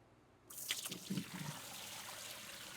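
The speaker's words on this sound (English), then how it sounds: "So we're going to pour this out," Water poured out of a betta fish tank during a complete water change, a short trickling, splashing pour that starts suddenly and then settles into a steady faint wash of liquid.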